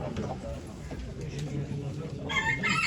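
Chickens, including laying hens, cluck in the background under people talking at a chicken auction in Ankara, and a rooster crows loudly near the end.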